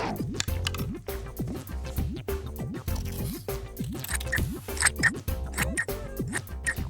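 Scissors snip repeatedly through material, cutting out a shape drawn around a lid, with crisp rhythmic cuts over cheerful background music.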